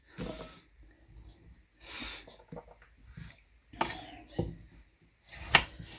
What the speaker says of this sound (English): just chop them whatever you want, because we're going to put these through a liquidizer later on